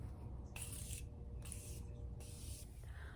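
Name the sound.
Morphe Continuous Setting Spray misted on face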